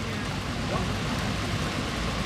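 Steady rain falls at an outdoor street protest in Providence, a dense, even hiss of drops on pavement and surfaces that continues without a break, close and fairly loud.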